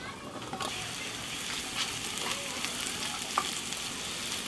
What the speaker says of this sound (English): we're going to fry up the garlic first